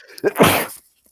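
A single sharp human sneeze from an allergy sufferer bursts out close to the microphone, brief and loud, with a quick inhale before it and near silence after.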